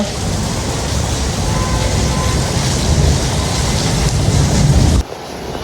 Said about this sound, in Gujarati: અત્યારે વરસાદ ફૂલ છે